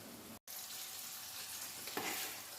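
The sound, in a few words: chicken frying in hot oil, KFC-style crispy chicken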